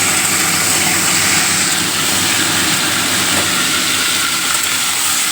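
A kitchen chimney exhaust fan runs in a home kitchen while Bengali shukto is cooked, giving a steady, loud broadband roar with a low rumble that holds unchanged throughout.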